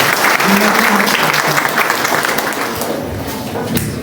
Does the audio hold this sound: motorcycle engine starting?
no